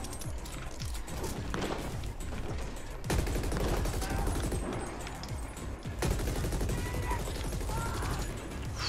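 Heavy gunfire from enemies' big guns in the video game The Ascent: dense, sustained bursts of shots and impacts filling the whole stretch, loud and continuous with mechanical clatter, no talk.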